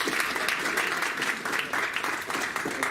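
An audience at an education symposium applauds a keynote speaker, a steady wash of many hands clapping throughout, moderately loud and continuous.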